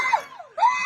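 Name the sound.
person screaming inside a car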